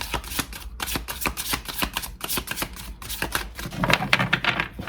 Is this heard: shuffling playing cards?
yes